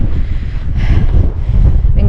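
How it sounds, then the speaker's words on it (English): Strong wind buffets the microphone on a hilltop at Dale Head in the Lake District, a loud, steady roar that swells and gusts throughout. "Oh my god, it's windy."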